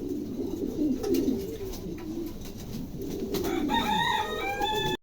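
Pair of pigeons cooing in soft, repeated throaty bursts at close range, with a rooster-like crow rising near the end over a quiet room background.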